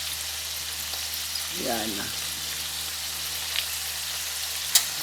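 Beef steak frying in a pan, a steady close sizzle throughout with a short spoken word partway through and a small clink near the end.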